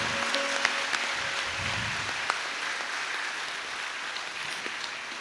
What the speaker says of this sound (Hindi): पुनः सब एक दूसरे के लिए तालियों की गड़गड़ाहट कर रहे हैं।